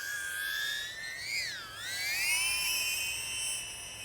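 Oxbot Lumo18 tinywhoop drone with a DJI O4 Lite camera flying nearby, giving a high, whining buzz of small props that bends in pitch as the throttle rises and falls, steady and continuous with no talk.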